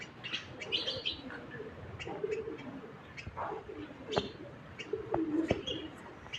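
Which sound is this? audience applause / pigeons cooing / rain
pigeons cooing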